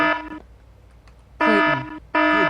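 A Fallout 4 alarm blares in three loud buzzing bursts, a long opening blast, then two more separated by short quiet gaps, with no talking.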